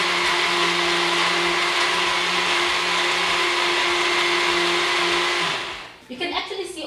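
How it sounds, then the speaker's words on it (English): A blender loudly blitzes carrot top pesto with oil in a steady, continuous whir for about six seconds, then winds down and stops, leaving a few softer clattering sounds. "So in goes my oil, and then the last blitz. Just let that blitz until it's beautiful and reduced."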